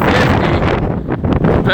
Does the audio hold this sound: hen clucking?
no